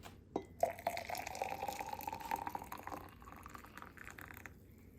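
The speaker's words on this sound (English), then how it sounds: "Steaming hot water coming through." Steaming hot water poured into polished ceramic, a steady liquid trickle and splash lasting several seconds, quiet and close with a few small drips near the start.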